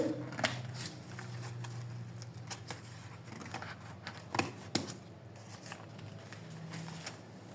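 Scissors snip through fabric while cutting out a bubu crop top, a series of soft, irregular close clicks and slicing crunches spread across the clip, fairly quiet with no talking.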